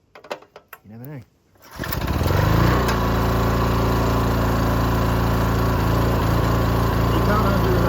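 A 1965 Honda E300 generator engine is pulled over with a few rapid cranking bursts, catches, and settles into a loud, steady, close-up running drone.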